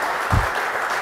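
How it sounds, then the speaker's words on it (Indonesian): Steady applause from an indoor audience at a talk after a speaker's story, many hands clapping evenly with a brief low thump partway through. "kita beri tepuk tangan dong, luar biasa nih ceritanya"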